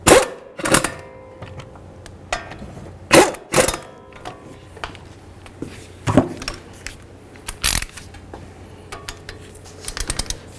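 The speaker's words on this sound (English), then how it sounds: "we'll take both of our caliper bracket bolts with a little bit of red thread locker. We can start these in, then we'll tighten them up" Mechanical ratchet clicks and metallic handling noises come from tightening the front caliper bracket bolts on a Dodge Journey. Irregular bursts of clicking sound close up, with no talking.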